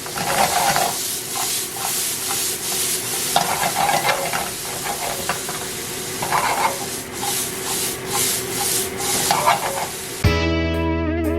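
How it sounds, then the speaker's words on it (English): Sliced onions caramelize in a pan used earlier for mushrooms. A steady sizzle sits under repeated scraping and stirring strokes, heard close and fairly loud, and the clip ends with a brief electronic tone. "Gotta caramelize that onion. in the pan that you cook the mushrooms in."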